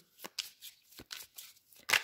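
Lenormand cards being shuffled by hand, a run of crisp riffling and flicking bursts in short uneven bursts, close and alone with no talk.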